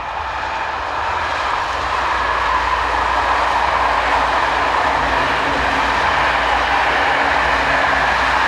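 The 0852 Eurostar service from Brussels to St Pancras International passes close by as a loud, steady rushing roar of wheels and air that holds for several seconds without letting up.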